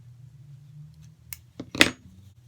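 Scissors snipping through fabric for a face mask casing, giving a few close, crisp cuts in quick succession after a low steady hum, the last cut the loudest.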